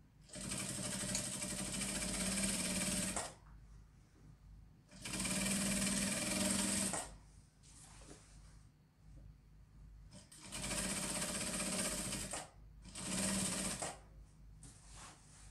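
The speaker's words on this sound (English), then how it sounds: "We're just going to be sewing this down." A sewing machine stitches down a seam on a pair of trousers, running in several loud, steady bursts of a few seconds each with short pauses between them, close up and without any talk.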